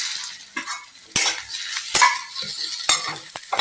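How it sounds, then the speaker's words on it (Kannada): Sliced okra stirred in coconut oil in a pan, soft sizzling broken by several sharp metal utensil scrapes and clinks against the pan, close and without talk. "ಸ್ವಲ್ಪ ಒಂದು 2 ಸ್ಪೂನ್ ತೆಂಗಿನಕಾಯಿ ಎಣ್ಣೆ ಇಟ್ಟು ಅದಕ್ಕೆ ಹಾಕಿ ಇವಾಗ ಹುರ್ಕೊಳ್ಬೇಕು."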